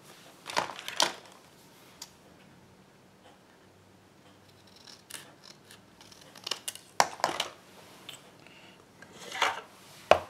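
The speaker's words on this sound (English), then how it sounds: "I'm just going to use my scissors." Scissors snipping through card paper at a craft table, several short crisp cuts in irregular bursts separated by quiet gaps.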